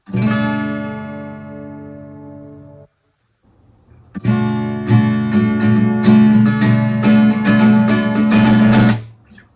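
A strummed guitar chord rings out and fades, then after a short silence a burst of rhythmic strumming plays loudly before stopping abruptly.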